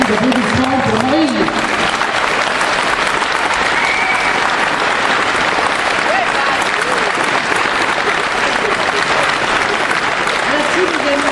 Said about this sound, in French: Je vous demande un premier applaudissement pour Marine.